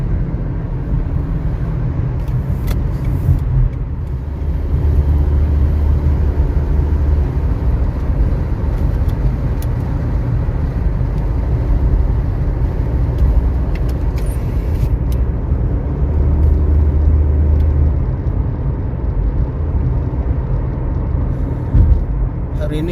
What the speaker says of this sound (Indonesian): mobil yang mulai antri untuk putar balik